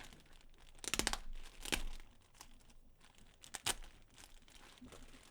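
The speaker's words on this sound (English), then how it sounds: "We'll take the tape off." Tape being pulled off and plastic wrap crinkling around a pair of headphones during an unboxing, close and fairly faint, with a few sharp rips and crackles amid softer rustling and no speech.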